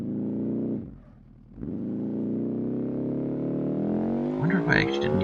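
BeamNG.drive car engine revving hard under heavy throttle; after a brief drop the engine note climbs steadily and strains higher, loud and close, with a voice speaking near the end.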